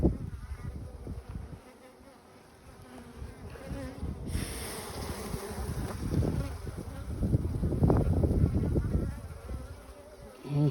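Honeybees swarm around an opened hive frame, giving a dense, continuous buzz that swells and fades as the bees move close and away, with handling noise around the frame.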